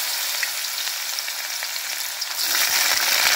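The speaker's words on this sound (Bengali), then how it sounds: "এখন আমি সব সবজিগুলো এক এক ভেজে নেব। দিয়ে দিচ্ছি গাজর," Carrots fry in hot oil for a vegetable chowmein, a close, loud, steady sizzle that swells louder near the end.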